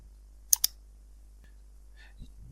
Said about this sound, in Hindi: एड न्यू पर क्लिक करें।